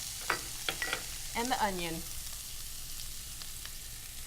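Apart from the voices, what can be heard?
shredded carrots, zucchini and onion sizzling in pan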